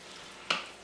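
Crushed, pureed tomatoes stirred into a hot pan for a homemade Italian sausage sauce: a single brief, close sizzling swish that rises sharply and fades within a fraction of a second over a quiet background.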